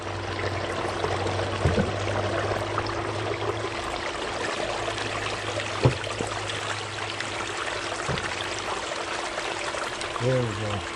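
Hose water flows in an even stream through a recirculation tub set up for prospecting in Arizona, a steady close splashing trickle with a few light knocks and a brief mechanical whine near the end.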